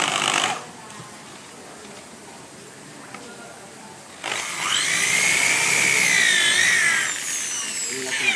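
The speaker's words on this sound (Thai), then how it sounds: "ใช้หัวสว่าน ยิงไปที่ โครง หรือที่แผ่นก่อนให้เป็นรูนิดหน่อย แล้วก็ยิงรู" A power drill drives screws into the metal frame of a drywall ceiling, a loud whining burst rising and falling for a few seconds after a long stretch of faint room noise.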